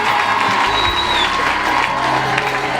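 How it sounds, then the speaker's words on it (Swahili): A church congregation at a healing service applauds and ululates, producing a continuous, dense wash of clapping and crowd noise with a brief high trill cutting through near the start. "makofi ni kidogo, vigelegele ni kidogo"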